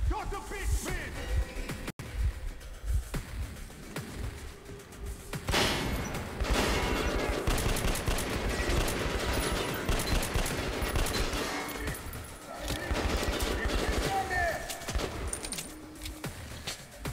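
Gunshots from a small but powerful pocket pistol in Metro: Last Light, one sharp crack early, then a long dense stretch of heavy firing and loud game combat.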